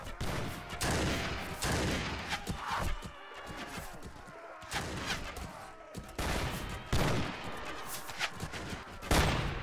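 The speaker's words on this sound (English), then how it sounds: "As long as the gunners keep shooting" Gunners fire muskets in Mount & Blade Warband, with repeated loud, sharp volleys cracking in irregular bursts, some overlapping, against a busy battle background.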